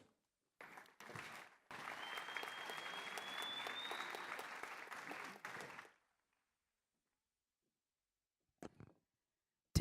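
An audience at a high school victory night event applauds for about four seconds, a dense burst of clapping with a few scattered claps before and after, then the hall falls silent.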